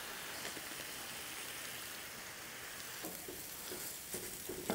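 Bacon and sausage sizzle steadily on a Blackstone griddle, with a dense, continuous frying hiss close by and occasional small pops and spatters. No voices.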